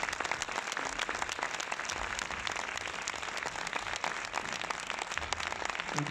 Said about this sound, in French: François Uzan et Jacques Gamblin, on applaudit très très fort.